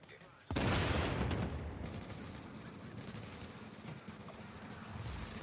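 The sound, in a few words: seeker mines and sticky bombs exploding in The Division video game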